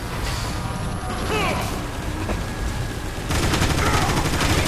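Sniper gunfire from the video game Transformers: War for Cybertron crackles in bursts amid mechanical clanks and game effects, growing denser and louder near the end.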